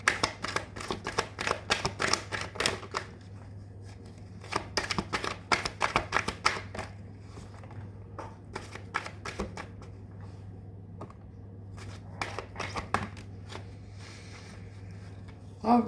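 Mystic Mondays tarot cards are shuffled by hand in repeated quick crisp riffling bursts, close and dry, with short gaps between handfuls.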